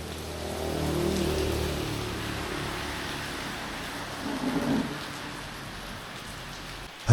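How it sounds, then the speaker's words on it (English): Heavy rain pours down outdoors in a steady, dense hiss that fills the whole clip, with a low rumble of passing traffic underneath and a brief swell near the end. "Unfortunately, it started raining heavily."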